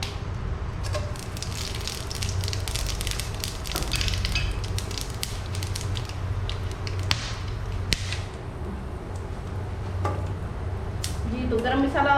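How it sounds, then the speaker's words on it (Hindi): Garam masala spices fry in hot oil in a pan for mutton karahi, giving a steady, close sizzle with scattered crackles and a few sharp clinks running under the whole stretch. "जी, तो गरम मसाला फ्राई हो गया है।"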